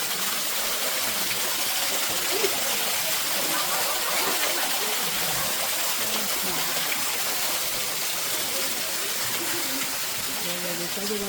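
A waterfall in Portugal gives off a steady broadband rush of falling water that is continuous and even throughout, with faint voices and bird traces underneath.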